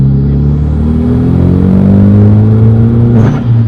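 A 2013 Hyundai Genesis Coupe 2.0T turbocharged engine revs up loudly, its pitch climbing steadily as it accelerates, close and powerful, ending with a brief rattle as the gear shifts.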